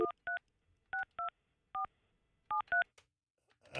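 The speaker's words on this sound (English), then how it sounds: "Calling up Allison, Fester's wife's cell phone" Telephone keypad tones dial a cell phone number: eight short, clean two-note beeps in an uneven rhythm with gaps between them, fairly quiet and alone, with a faint rustle at the end.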